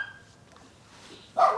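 A dog in a village courtyard in Hulyaipole, Ukraine, taken in from the street, gives one loud bark near the end after a quiet stretch of faint background noise.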